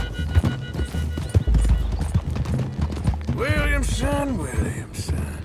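Horse hooves clip-clop steadily at close range in Red Dead Redemption 2, with a horse whinnying loudly partway through and game effects layered underneath.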